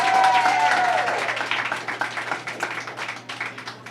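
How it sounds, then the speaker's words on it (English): Applause from a Caribbean Heritage Month celebration audience, a dense burst of clapping that is loudest at the start and thins to scattered claps as it fades. "a better round of applause than that"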